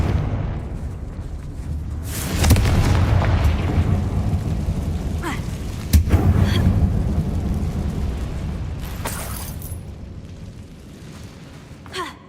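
Confringo spell explosions in the Hogwarts Legacy video game: deep booming blasts with long rumbling tails, a sharper hit in the middle, then fading to a low roar.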